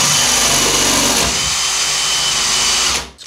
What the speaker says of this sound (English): now I'll just drill this through